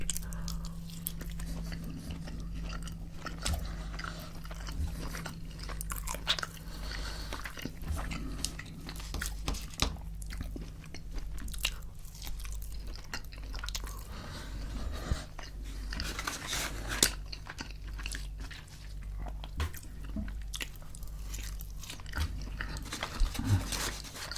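Biting and chewing fried fish pieces eaten with a chip and a dab of ketchup, a steady run of close, soft crunches and wet mastication sounds over a low background hum.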